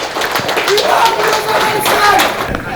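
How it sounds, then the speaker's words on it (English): An audience at a prison football league awards event applauds with steady, dense clapping while voices talk over it. "A hearty round of applause, please."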